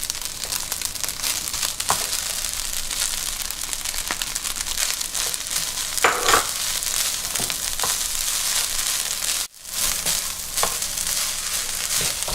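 Sausages sizzle and crackle in a pan while being stirred into Vietnamese fried rice, a steady close frying hiss with scraping and stirring bursts throughout and a brief drop midway.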